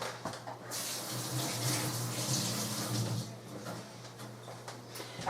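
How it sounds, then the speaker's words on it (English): Tap water runs steadily into a kitchen sink during casserole preparation, a continuous hiss that carries on alone without pauses. "let me wash my hands a second."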